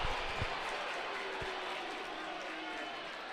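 High school boys' basketball regional final crowd reacting to a foul call: a dense, steady roar of voices and murmuring from a large gym audience, with a few thuds early, under an announcer talking.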